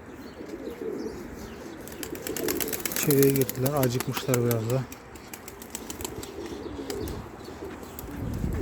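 Pigeons coo in a few throaty bursts in the middle, with some wing flapping, at a coop, while a person talks over the birds.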